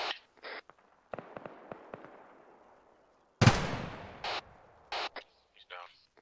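Arma 3 gunfire in a military multiplayer operation: a string of sharp single shots, then one loud close report with a long echoing tail, followed by further shots, with radio-style voices talking in between.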